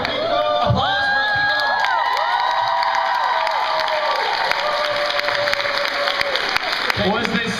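A convention panel audience applauds and cheers loudly and steadily, with whoops rising over the clapping throughout, close and continuous.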